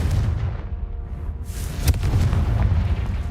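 A Confringo spell explosion erupts in a Harry Potter game as a sharp, loud boom with a crackling burst and low rumble, followed by continued heavy background noise.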